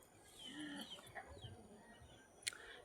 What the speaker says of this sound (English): the sound of chickens